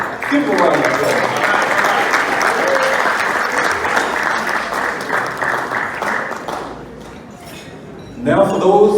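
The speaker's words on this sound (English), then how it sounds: "Give him a round of applause." Crowd applause for a fraternity senior vice president at an Alpha Kappa Psi black tie ball, loud sustained clapping that fades off after about seven seconds before a voice speaks at the end.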